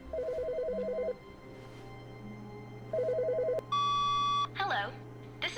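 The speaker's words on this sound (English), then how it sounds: "I heard a phone ring" Telephone in The Stanley Parable rings in two electronic bursts of rapid warbling trills, separated by a pause, over a low steady hum, with a few brief beeps and tones following.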